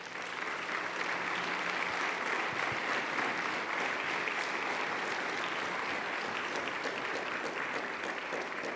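Church congregation applauding during a Sunday sermon, a dense sustained wash of clapping that holds steady and loud for several seconds with no voices on top.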